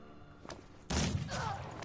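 Gunfire in the video game Mordheim, heard as a single sudden loud gunshot crack followed by a rumbling, crackling tail, with faint softer sounds just before it.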